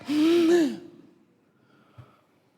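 A voice imitates a newborn's first breath with one sharp, loud, voiced inhaled gasp lasting about half a second, followed by near silence and a faint small click.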